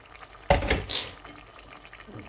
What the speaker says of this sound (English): And I'm going to also put another cup of hot water.